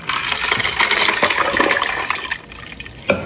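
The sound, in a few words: water poured into churning cream while making butter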